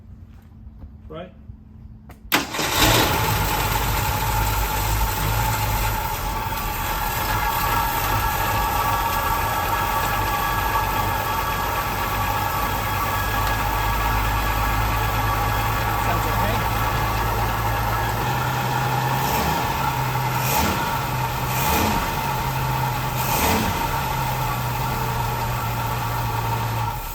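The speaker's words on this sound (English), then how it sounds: "it was idling a little bit high, but seemed to be idling actually pretty good" A 1968 Ford Mustang fitted with Holley Sniper EFI fires up after a brief crank and settles into a steady, slightly high, loud idle that holds unbroken throughout, with a few faint knocks and a voice talking over it.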